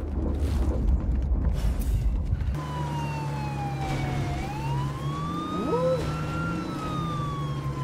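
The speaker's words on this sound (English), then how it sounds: "The sirens are sick on this thing." Vehicle sirens in the video game State of Decay 2 wail and sweep up and down in pitch over a steady engine rumble, loud and continuous, with a busy noisy stretch at the start.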